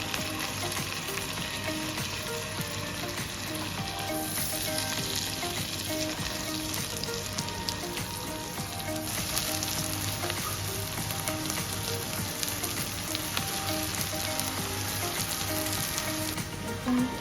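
Vegetables marinated with ginger and garlic fry in a pan for fried rice, giving a constant close crackling sizzle with faint stirring scrapes, steady throughout with no voices.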